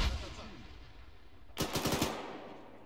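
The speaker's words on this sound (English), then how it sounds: "Fire the BMP at the Russian." A BMP vehicle's cannon firing in the Arma 3 game during a Soviet invasion of Afghanistan scenario: one rapid burst of roughly half a second of loud, close automatic shots cutting in midway through the clip.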